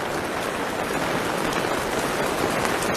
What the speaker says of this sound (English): Got some rain coming through now and some water for sure.